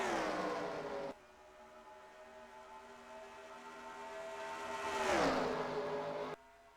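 Stock cars racing in a NASCAR-style game at Michigan, with a steady engine drone that builds and then sweeps down in pitch as a car passes close by, before the sound cuts off abruptly.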